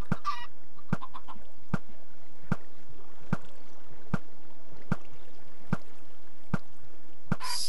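Short, sharp clucks from Minecraft chickens repeat at an even, steady pace, about nine in a row, against a quiet background.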